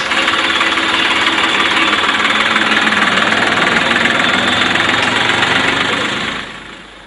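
A council garbage tractor's engine runs steadily and loudly up close, a constant rough diesel drone with knocking texture that fades slightly at the end.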